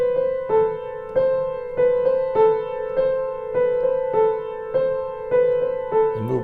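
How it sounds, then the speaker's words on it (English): Piano played with the sustain pedal down, a repeating pattern of notes from Carol of the Bells ringing into one another in a steady rhythm, close and moderately loud with no talking. "You can press the pedal down on the piano, which makes it sound like this."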